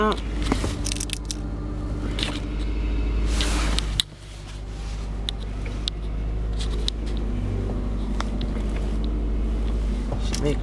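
Engine of a 2007 Subaru Forester idling on a cold morning, with a light clutch chatter as the accelerator is released; a steady close drone with small rattly irregularities and a brief dip partway through.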